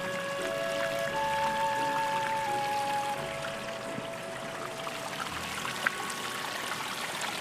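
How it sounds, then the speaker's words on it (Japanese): Water flows steadily along the Meguro River greenway, a soft continuous trickling wash with faint thin tones and a small clack near the end, no talking. "この水音"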